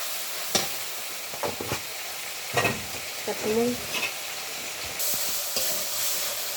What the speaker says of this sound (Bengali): ভালো করে কষাইছি এই যে তেল উঠে গেছে